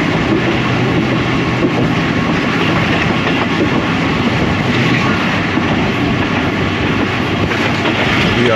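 A train runs through Kaluwal railway station at speed without stopping on the single-line Lahore to Rawalpindi route, a loud, steady rumble and rattle of wheels on track with wind noise throughout.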